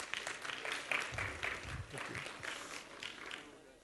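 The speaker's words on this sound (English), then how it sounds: "let's give a big round of applause for all of us" A small group at a youth development workshop gives a round of applause after a discussion session, with moderate, steady clapping at close range. Faint voices can be heard beneath it.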